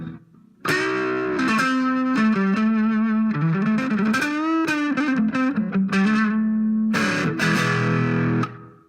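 An electric guitar plays a sustained, heavily distorted melodic line through a Zoom Player 2100 multi-effects unit, thick and buzzing with shimmering modulation, loud and up close.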